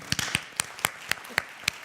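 Scattered claps from a small church meeting audience, about eight sharp separate claps spread unevenly, close and distinct rather than a full ovation.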